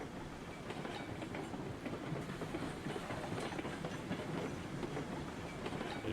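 A Class 70 train in the video game RailRoads Online rolls along rails with a steady, continuous rumble and faint rhythmic clatter, fairly quiet, with no talking.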